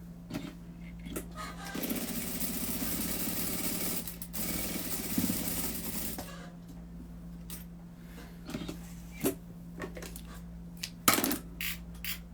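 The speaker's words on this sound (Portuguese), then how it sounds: "vou passar uma costura, dando um acabamento nisso aqui" A sewing machine runs a finishing seam on a handmade cloth doll, a steady fast mechanical stitching drone for about four seconds, then stops and leaves scattered clicks and handling noises.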